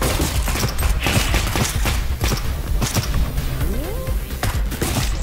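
Explosions burst in the Neon Abyss video game, a dense, loud barrage of overlapping blasts and crashes with fast rattling impacts and a few synthetic zaps, continuous for several seconds.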